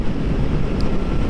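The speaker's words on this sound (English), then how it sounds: "it's very, very windy" Strong wind blows outdoors, buffeting the microphone with a loud, steady low roar and no talk.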